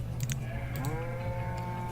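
Cows mooing in the Banished game, a low drawn-out moo over a steady background hum, fairly faint.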